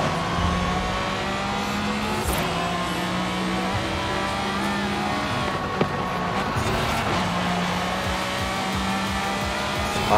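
Pagani Zonda R racing a lap in Forza Horizon 5, a continuous loud high-revving engine drone with shifting pitch as it accelerates and brakes through corners, with brief tire noise.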